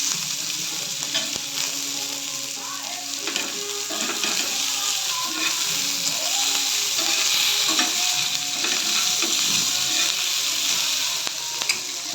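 Peanuts and green chillies sizzle and roast in a hot pan with salt, giving a steady crackling fry with occasional stirring scrapes and no talk.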